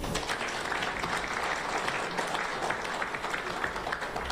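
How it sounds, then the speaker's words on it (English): Steady applause from an audience at a TESCON political gathering, honouring a mentor, dense and sustained for several seconds with no voices standing out. "Please, let's clap for him."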